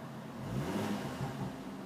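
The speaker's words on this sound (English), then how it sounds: "Great sound to the engine there." Close, steady idle of a 2.5 litre petrol engine in an orange Ford Focus ST 2, a low, even rumble with slight wavering throughout.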